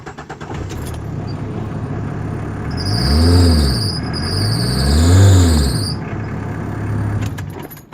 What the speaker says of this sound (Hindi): I am starting this Indica.